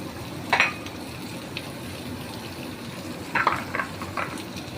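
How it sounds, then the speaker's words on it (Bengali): Crumbled homemade chhena frying in a pan sizzles faintly and steadily, with a few brief spatula scrapes and clinks close by and no talking. "এটাকে এর সাথে সুন্দর করে ভাজবো"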